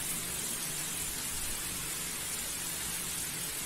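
Steady rain pours down in a dense, even hiss with no pauses, fairly loud and close, in northeastern Brazil.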